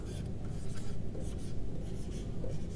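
Numbers being written on a board in continuous scratchy strokes with a rhythmic rubbing texture over a steady background hum, fairly loud and close.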